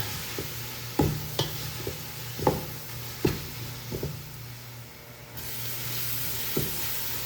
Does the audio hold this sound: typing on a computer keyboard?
no